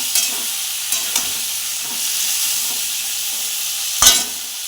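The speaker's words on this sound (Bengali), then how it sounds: "তো আমি এগুলো এখন কড়াই তুলে দিয়েছি, এবার নাড়া শুরু করব।" Onion, tomato and potato stir-fry in a kadai, giving a steady close sizzle throughout, with a few sharper scrapes and knocks from the stirring spatula and no voices.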